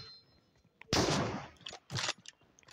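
Gunfire in a one-versus-two online shooter match: a loud close burst near the start followed by a second shorter burst, with quieter clicks and game sounds in between and no talking.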